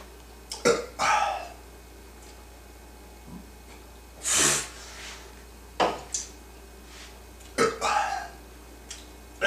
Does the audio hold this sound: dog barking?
no